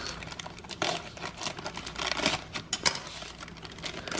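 Tough plastic sausage bag, stiffer than ordinary film, handled and cut open with a knife, giving close crinkling and crackling with sharper snips and rustles across the whole stretch.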